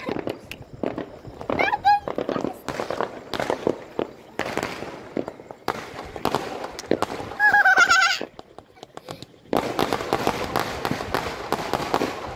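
Firecrackers and fireworks for Pakistan's Independence Day on 14 August go off in sharp, repeated bangs and crackles, near and loud, while people talk and call out over them.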